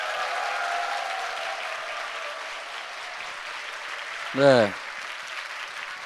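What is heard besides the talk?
crowd applause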